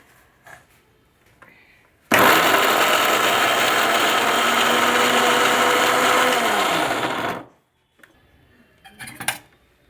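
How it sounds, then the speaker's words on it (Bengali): An electric mixer grinder whirs loudly as it grinds green peas, running steadily for about five seconds before stopping, with faint handling clatter before and after. "এই দেখুন আমি মিক্সি বসিয়ে দিলাম আপনারাও এইভাবে কড়াইশুটিটাকে ইয়ে করে নেবেন"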